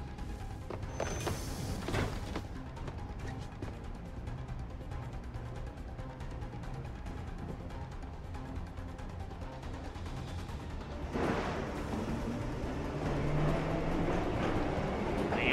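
A train in the video game Assassin's Creed III rumbles steadily along with a low mechanical drone and rattling, swelling louder toward the end, no voices.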